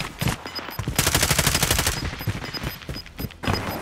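Rapid automatic gunfire in a battle royale game, with quick bursts and a sustained rattling volley near the middle, punctuated by single close shots and no speech.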